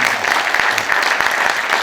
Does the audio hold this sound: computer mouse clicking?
no